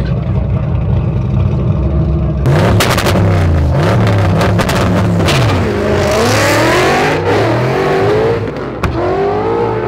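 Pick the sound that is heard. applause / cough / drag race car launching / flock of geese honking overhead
drag race car launching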